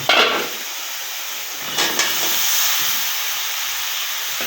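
Cauliflower, beans and potatoes drop into hot, cooked-down spices in a pan for a pangas fish curry, giving a loud burst of sizzle that settles into a steady hiss, with a second brief flare partway through.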